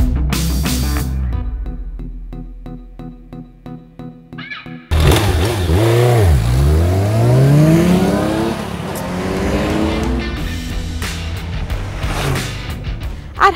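A Suzuki GSX-S750 street motorcycle engine revs hard toward 11,000 RPM, first in short stuttering blips, then rising and falling in loud, sweeping pitch changes that fill the rest of the stretch.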